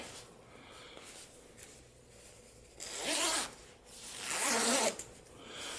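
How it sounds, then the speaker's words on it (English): A zipper on a homemade sleeping bag is run closed in two loud, close strokes, each a bright rasping zip of about a second, after a quiet stretch of faint handling. "zips up pretty good"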